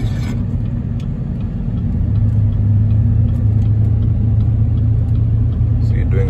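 A Chevrolet Silverado High Country pickup rounds a curve at about 30 mph, its steady low engine and road rumble filling the cabin from start to finish while people talk over it.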